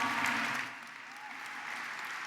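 Audience applause at an evening Black History Month cultural event, a steady wash of clapping that is loud at first, dips slightly, then carries on at an even level without a break.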